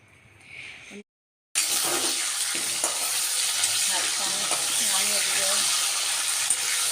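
Chicken sears with onions and spices in a pan, giving a loud, continuous sizzle with stirring scrapes. A short silent break comes early, after a quieter opening.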